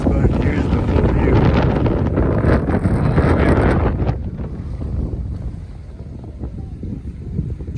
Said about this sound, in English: There's a lot of wind here.